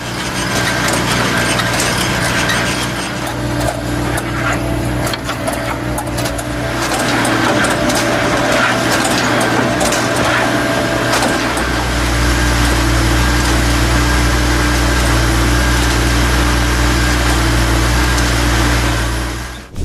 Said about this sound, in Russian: Насколько же быстро работает дернособирательный комбайн Trebra TSS?